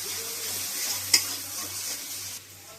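Garlic paste and spices frying in oil for a jackfruit curry make a soft, even sizzle as they are stirred, with one sharp utensil clink midway.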